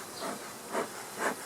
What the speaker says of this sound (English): You are smoking the bees.